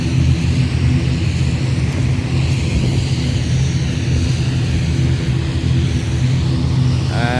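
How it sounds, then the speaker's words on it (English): Steady, loud drone of an ultralight aircraft's engine and propeller in flight over Pokhara, a continuous close hum with wind rush and no breaks. "That's the Ultralight Flight."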